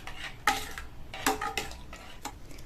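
A spoon stirs tempering into a chayote, carrot and pepper kootu in a metal pot, giving several distinct clinks and scrapes spaced out over a few seconds, close and clear with no talking.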